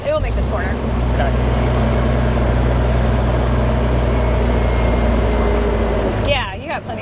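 A dump truck pulling a trailer rounds a corner, heard from inside the cab as a loud, steady low engine drone and road rumble that continues unbroken, with people talking over it.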